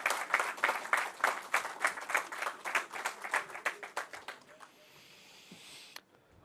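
An audience at a National Leprosy Day event applauds to welcome a Rajya Sabha member as speaker, with steady rhythmic clapping that fades out after a few seconds into a quiet hall.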